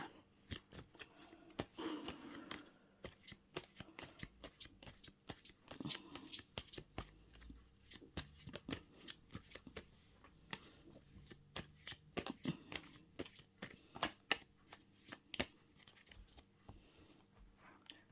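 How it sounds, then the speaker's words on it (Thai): Tarot cards are shuffled and cut by hand, giving quiet, irregular bursts of riffling, flicking and tapping close by for many seconds, with no talking. "ขอเป็นตัวแทนสับไพ่ตัดไพ่ให้คนเกิดวันศุกร์ค่ะ"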